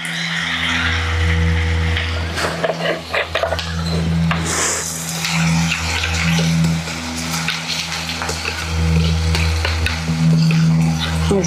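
Water poured onto ground cumin and coriander masala frying in a pan, producing a loud, steady sizzle with stirring scrapes and bubbling that carry on throughout, close and continuous.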